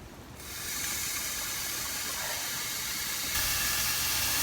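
Thinly sliced Philly cheesesteak meat hitting a pan over medium-high heat, breaking into a steady, hissing sizzle that swells after a quiet start and grows louder again near the end.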